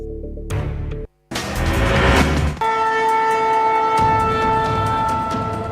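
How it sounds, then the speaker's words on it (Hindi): A freight train approaches at a railway station in Pakur, its horn blaring in long sustained tones over the loud rumble of the wagons, with a brief dropout early on. "सामने से मालगाड़ी आ रही है, लगातार हॉर्न बज रही है"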